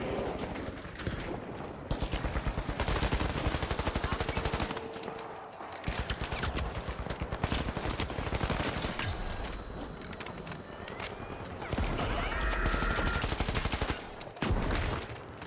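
Rapid bursts of gunfire from the survival video game Cataclysm: Dark Days Ahead, dense and loud for most of the clip, with brief pauses and a short quieter gap before resuming.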